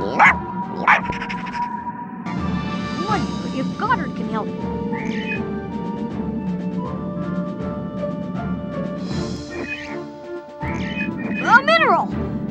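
Goddard, the robot dog from the Jimmy Neutron video game, giving a few yippy barks scattered among electronic game tones and background music, with a voice talking over parts of it.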